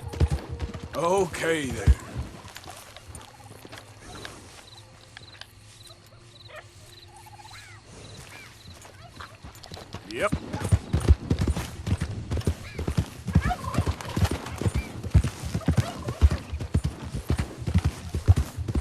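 Horse hooves clip-clop in Red Dead Redemption 2, a fast rhythmic gallop that fades out midway, then returns loud and close, with someone briefly talking and faint wildlife calls in the background.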